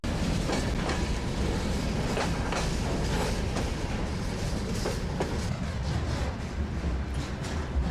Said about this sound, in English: These carriages are carrying the mineral wealth of Eastern Siberia westwards towards Moscow and further afield.